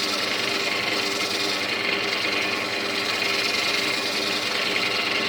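Wood spins on a lathe while being sanded, a constant dense rushing hiss of abrasive against turning wood mixed with the motor's hum, steady and close throughout.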